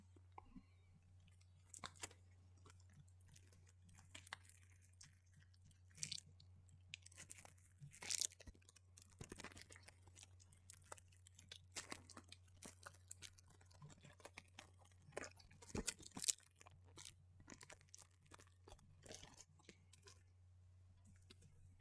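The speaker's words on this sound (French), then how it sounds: "j'ai gardé les papiers pour tenter du crinkle." Lindor chocolate wrapper papers crinkled close up, soft irregular rustles and crackles at low level over a steady hum, with scattered quiet bursts.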